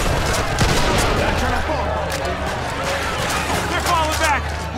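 Gunfire in Mafia 2 Definitive Edition: rapid bursts of shots and machine-gun fire ring out over a busy battle scene, with voices talking throughout.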